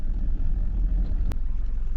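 Steady low road rumble of a car cruising smoothly on a freshly surfaced service road, continuous and close, with a brief sharp click partway through and no talking.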